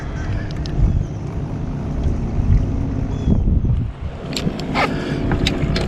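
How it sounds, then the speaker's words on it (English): Steady wind buffeting a microphone out on Lake Murray while crappie fishing from a boat, a continuous low rumble with brief scrapes and rustles throughout. "Doggone wind."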